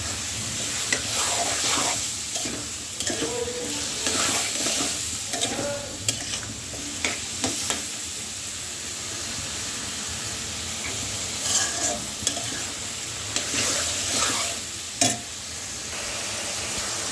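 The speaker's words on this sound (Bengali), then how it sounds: "এভাবে কিছুক্ষণ এই তেলের ভিতরে আর এই মাছের ভিতরে এভাবে নেড়ে চেড়ে ভালো করে কষিয়ে নেবে" Shrimp stir-fried in hot oil in a pan, for a Bengali chorchori with pumpkin, potato, Malabar spinach leaves and fruits, garlic and onion: a steady close sizzle broken by repeated scraping, clacking stirs of the spatula, with no talking.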